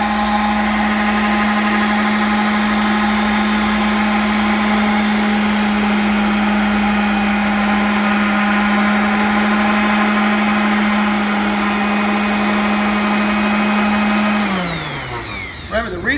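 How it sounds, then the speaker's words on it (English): Steady, loud whine of an electric sander running on wooden legs, a constant motorized hum that holds for several seconds before spinning down near the end. "the reason we're using an electric sander is because it's doing the work for us"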